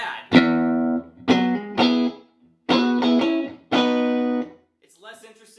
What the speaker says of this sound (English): If we play something like that without reverb, it sounds kind of bad.